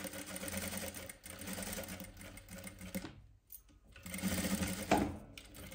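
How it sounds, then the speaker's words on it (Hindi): Close-up sewing machine stitching a fitting seam on a velvet kurti, running in fast steady bursts with a brief pause midway before the stitching resumes. "ये फिटिंग की सिलाई लगा दी"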